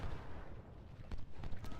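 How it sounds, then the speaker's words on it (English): Cannon artillery booms from the Ultimate General: Civil War video game at Antietam, a few short dull thumps spaced unevenly over low rumbling battle noise. "see if we can get some cannon shots into them"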